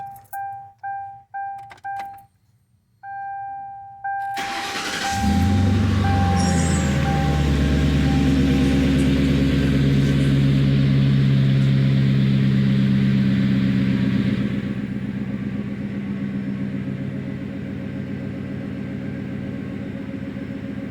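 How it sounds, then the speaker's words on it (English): Several chimes sound, then a starter cranks and a 2001 Ford Crown Victoria LX engine fires into a deep, throaty rumble through a loud custom exhaust, settling into a rough idle. "let me go ahead and fire it up so you can hear the exhaust"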